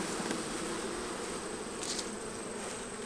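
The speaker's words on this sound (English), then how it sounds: "Good bunch of bees on that lid." Honey bees swarm over a beehive lid during summer hive management, a dense steady buzzing hum that fills the whole stretch at close range with no talk.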